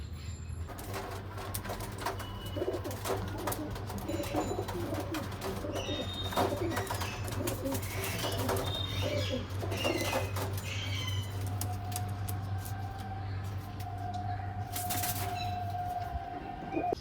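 Pigeons kept at a house coo in a low, continuous rolling murmur throughout, with scattered clicks and rustles and a faint steady tone in the background.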